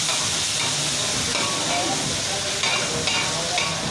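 Ginger-garlic paste fries in hot oil for a hotel-style daal gosht, giving a steady, dense sizzling hiss that holds close and loud for the whole stretch with no voice over it.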